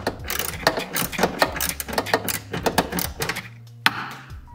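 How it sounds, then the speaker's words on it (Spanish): A ratchet with a 10 mm socket and extension loosening a nut on a Volkswagen Golf 5 tail light: a fast, uneven run of close, crisp clicks with short pauses, then one sharper click near the end. "Cogemos uno del 10, el extensor y la carraca."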